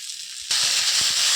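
Turmeric and spices for a Bengali mutton curry hit a hot pan and burst into a loud, steady sizzle after a brief quiet moment, hissing continuously to the end.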